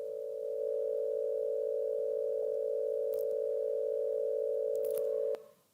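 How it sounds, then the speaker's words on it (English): Four sine-wave tracks, each on one frequency, play together in Firefox during a WebRTC talk, forming one steady, pure humming tone that holds evenly for about five seconds before cutting off abruptly. "each of them plays back a sine wave on one frequency"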